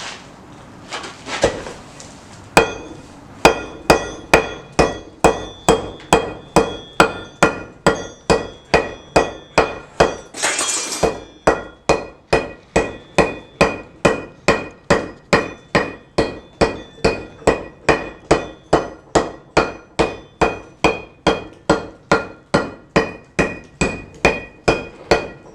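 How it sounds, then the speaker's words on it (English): A bush hammer strikes stone in traditional hand carving, sounding as loud, close, sharp blows in a steady, fast, even rhythm. A brief burst of scraping interrupts the hammering partway through. "I'm going to do a little bit more bush hammering."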